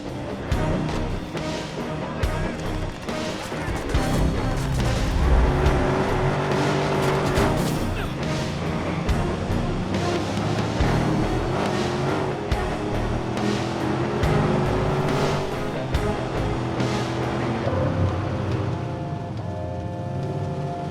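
A car driving in the video game Watch Dogs, with a steady engine drone and shifting revs that rise and fall, a few skidding and passing swells, and game sounds layered over it for about twenty seconds.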